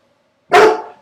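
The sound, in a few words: dog barking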